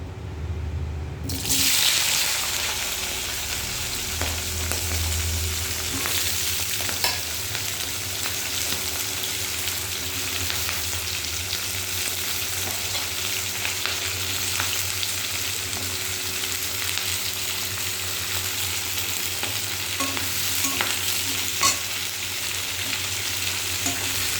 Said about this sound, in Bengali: এবার প্রথমে আমি পেঁয়াজ কালি আর আলুটাকে ভেজে নেব